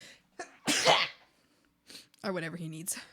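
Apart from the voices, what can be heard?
sneeze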